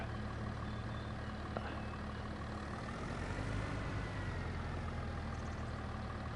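In Farming Simulator 25, a tractor engine drones steadily and loudly throughout, with a faint repeating reversing beep and a brief mechanical hiss over the constant rumble.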